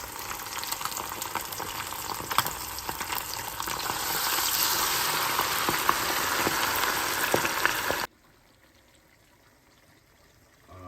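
Cajun chicken pieces fry in hot oil with a loud, steady crackling sizzle that swells midway, then drops abruptly to near silence.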